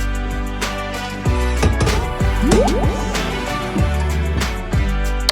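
Water runs and drips onto cleaned stainless steel cookware during a rinse, giving irregular splashing drips and filling gurgles, close and clear, with no talking.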